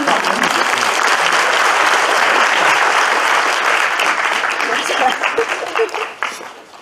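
An audience at a university lecture hall bursts into warm applause to welcome a guest speaker: a loud, dense roar of many clapping hands that holds steady, then thins into scattered claps and fades out near the end.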